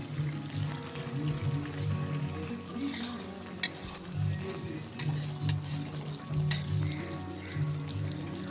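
Potatoes with peas for gobi aloo posto simmer in a covered pan, a steady close bubbling sizzle broken by a few sharp utensil or lid clicks, with faint talking now and then.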